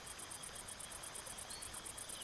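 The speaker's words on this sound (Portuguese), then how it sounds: "grilo." Crickets chirp in a steady, rapid pulsing trill over a dense outdoor night ambience, with no voices present.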